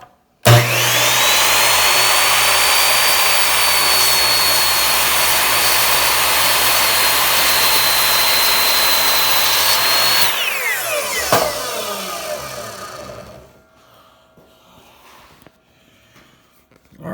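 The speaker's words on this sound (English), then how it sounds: "We're gonna cut this end off like this with the chop saw" A powered chop saw cuts the end off a wooden end-grain cutting board, a loud sustained whine for about ten seconds that drops away as the blade spins down, then near silence.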